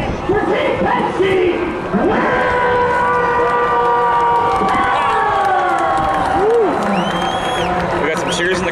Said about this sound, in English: We got some cheers in the crowd for Will.